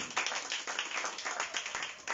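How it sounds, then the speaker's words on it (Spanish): A church congregation claps during a Spanish-language sermon, a quiet burst of brisk, fairly rhythmic clapping heard from a distance. "Dale un aplauso fuerte al Señor."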